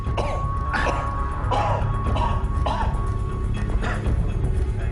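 Someone coughs and clears their throat repeatedly, several harsh bursts in quick succession, close and fairly loud.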